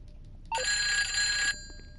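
A phone rings in GTA Online: a single bright electronic ring lasting about a second, clear and alone, then cut off.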